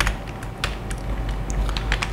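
Clicks from a computer keyboard as a command is typed, a quick irregular run of light keystrokes close by over a low steady hum, with no voices.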